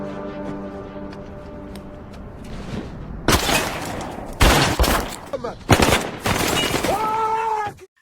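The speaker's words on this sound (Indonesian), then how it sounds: "Semyon pergi dan begitu ada kesempatan, Zaid langsung menembaknya menggunakan pistol milik Yasir." A pistol fires repeatedly at a bulletproof car in a film action scene. Several loud, sharp gunshot bursts break in after quiet background music, closely spaced and harsh.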